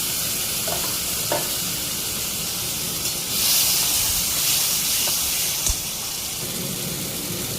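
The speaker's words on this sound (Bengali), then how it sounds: "ওর মধ্যে আমি কাঁচা লঙ্কা, কাজু আর আদা বাটাটা দিয়ে দিলাম।" Green chili, cashew and ginger paste sizzle in hot oil with fried potatoes, producing a steady close hiss that briefly swells louder midway, punctuated by a few light knocks of a stirring spoon.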